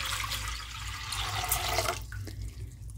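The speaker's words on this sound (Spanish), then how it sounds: "Aquí ya tengo mi olla y a esta le voy a poner el litro de agua." A litre of water poured into a cooking pot splashes steadily and close for about two seconds, then thins out to a lighter trickle and drips.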